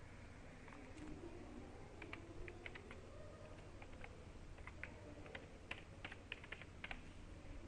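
Someone types an email ID and password on a computer keyboard, producing soft, irregular keystroke clicks in short bursts, quiet and close, with no talking.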